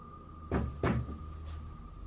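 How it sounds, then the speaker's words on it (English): Two dull, heavy knocks sound close together against a steady hum, each a low booming thud on wood, with a fainter third tap a moment later. "and the knocking gets louder."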